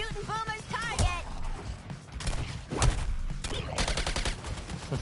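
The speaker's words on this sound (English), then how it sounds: "Dibs on shooting Boomer's target!" Rapid bursts of gunfire and impacts crackle through a combat scene in Suicide Squad: Kill the Justice League, loud and close, mixed with grunting voices and effects over several seconds.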